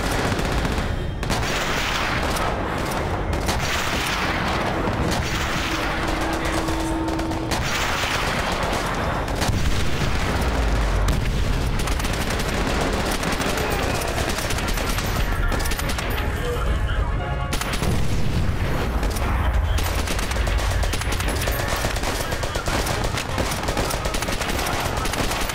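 Gunfire in the video game Call of Duty: World at War, loud sustained bursts of machine-gun fire and rapid rifle shots with booming impacts, continuous and dense, with a player talking over the shooting.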